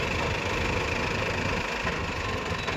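A Mahindra Arjun Novo 605 DI tractor engine runs on farmland with a rotavator, a steady mid-pitched diesel drone heard close and continuous.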